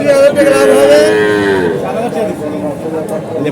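A close, loud, drawn-out moo from a cow at a cattle and goat market fills most of the moment, fading into low background murmur.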